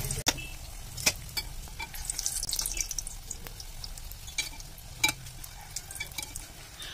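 Beef keema samosas deep-fry in hot oil with a constant bubbling sizzle, punctuated by sharp clicks and clatters of a utensil, with no one talking.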